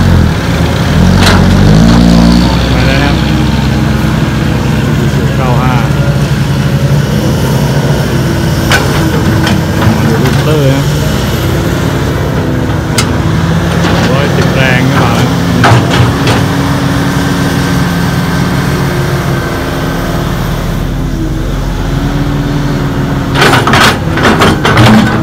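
A Komatsu PC200-5 excavator filling earth at a dirt pit, its diesel engine held at full throttle and straining under heavy load, a steady loud low drone with clanks and knocks of the working machine throughout.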